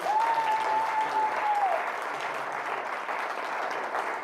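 An audience applauds steadily at a documentary event about women researchers, a full, sustained clapping from a crowd that carries evenly from start to finish.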